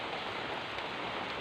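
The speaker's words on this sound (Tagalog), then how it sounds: "Malakas yung ulan mga labs." Heavy rain falling outdoors near an abandoned hut, a dense, steady hiss of downpour with no voices.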